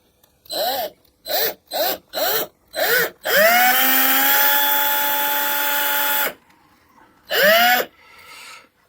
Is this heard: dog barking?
no